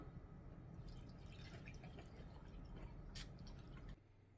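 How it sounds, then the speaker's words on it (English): A drink is poured into a container as a steady liquid fill, a continuous splashing, dripping flow that runs for about four seconds and then drops away. "Alright, let's pour."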